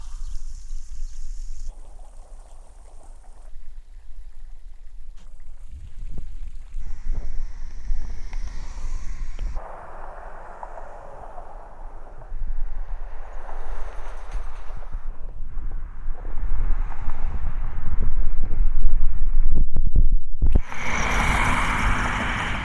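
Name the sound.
water fountain splashing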